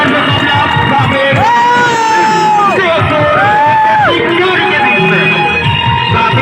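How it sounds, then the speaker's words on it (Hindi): A crowd at a rural ground cheers, whoops and yells after the final of a local team match, with loud voices and chatter throughout and a few long shouted calls rising above the noise. "जोरदार ताली भी है सभी के लिए"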